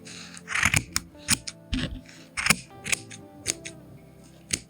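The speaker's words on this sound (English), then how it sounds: "I'm gonna take my scissors and I'm gonna cut through all the loops." Crisp scissor snips cut through crochet yarn loops in a loose, uneven rhythm, close by, each cut a short dry crunch with faint rustling between them.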